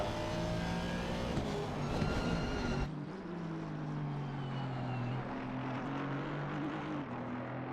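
An Aston Martin GT3 race car accelerates hard in first gear, its engine droning loudly with rising tones, then a sudden shift to a lower, steadier whine that climbs again as it pulls away.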